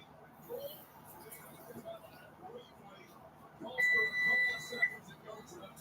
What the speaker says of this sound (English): that beep was just one long beep to tell me the oven is preheated